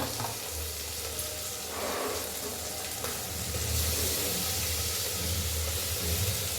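Garlic and a little ginger sautéing in a pan, a dense continuous sizzle and hiss with faint stirring movement over a low rumbling background.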